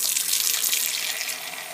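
Tap water pours steadily onto a soap nut shampoo mixture in a short, close, continuous hiss and splash, with no talking.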